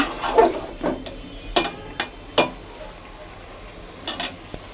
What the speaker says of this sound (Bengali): দিয়ে একটু নেড়ে দিচ্ছি